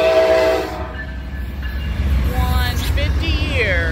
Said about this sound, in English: Oh boy, we got a cool surprise train it is.